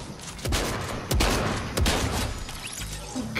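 Rapid bursts of submachine gun fire in a video game, three loud volleys with short gaps between them, close and punchy with no talk over them.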